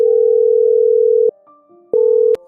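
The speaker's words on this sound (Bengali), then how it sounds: "একবার ওর মাকে ফোন করে দেখি তো" A telephone ringback tone on a call to a mother's phone: loud, steady electronic tones, one long burst, a pause, then a second burst, with no voices.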